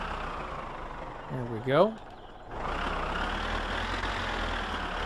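A tractor engine idles in the game My Summer Car, a low steady rumble that dips briefly and then resumes, heard under a short spoken phrase.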